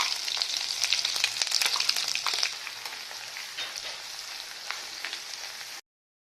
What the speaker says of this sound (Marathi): बघा आपला हे मसाला असा तळून झालेला आहे